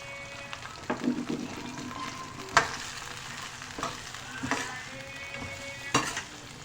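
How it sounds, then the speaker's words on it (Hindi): Garlic-ginger paste sizzles and fries in a pan, with steady crackling and a few louder scrapes and clinks of a spoon stirring. "अब हम लहसुन अदरक को ज़रा 1 से 2 मिनट फ्राई करेंगे"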